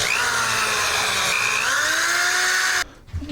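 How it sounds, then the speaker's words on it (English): A power drill with a tiny 1/16 inch bit boring into wood for storage bins, a close, high whining spin with shifting pitch that cuts off abruptly near the end. "I'm going to drill those with the tiniest little drill bit."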